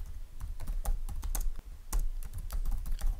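Rapid, close clicking of computer keys as website text is typed, an uneven patter of keystrokes with a brief pause midway and no speech.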